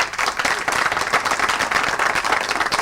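A comedy club audience breaks into loud, sustained applause, a dense, fluttering mass of many hands clapping at once with no voices over it.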